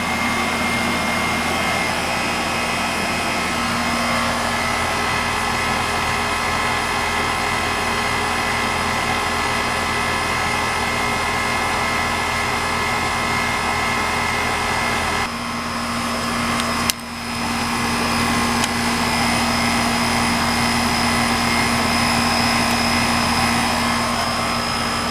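Old Amana air conditioner condenser unit running steadily, a constant loud droning hum with a fan whoosh, briefly disturbed midway by a knock, no talking.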